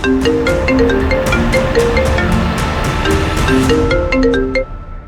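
A mobile phone rings with a repeating melodic ringtone that plays steadily and fairly loud in the foreground, with no talk over it.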